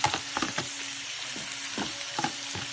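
Small-cut pork pieces for sisig sizzle in a hot pan, a steady crackling fry punctuated by repeated scraping stirs of a utensil, close and without talk.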